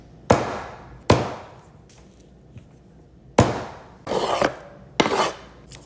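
A knife strikes a wooden cutting board while mincing garlic, several sharp separate chops spaced unevenly, close and fairly loud, with no talking.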